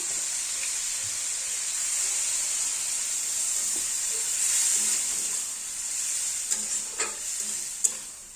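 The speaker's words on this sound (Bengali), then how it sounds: "এবার আমি জল দিয়ে দিচ্ছি।" A loud, steady sizzling hiss as water is added to frying potatoes in a hot pan fills the whole stretch, with a few sharp clinks and splutters near the end.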